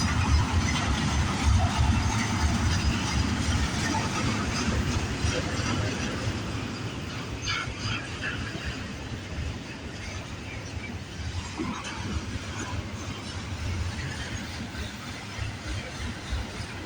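A Canadian Pacific freight train rolls past on Canada Day: a continuous heavy rumble with wheel and engine noise, loudest at first and then easing slightly while it keeps going.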